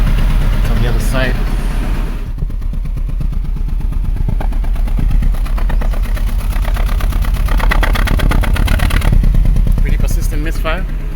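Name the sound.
1995 Mercedes 210 engine misfiring, heard at the exhaust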